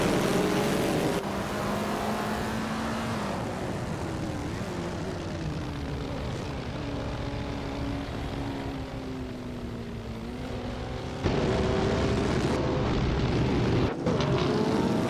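Vintage 1930s Grand Prix race cars, including Mercedes-Benz W154s, racing on a short track in a video game. Their engine tones drone steadily and rise and fall in pitch together, with a louder surge near the end.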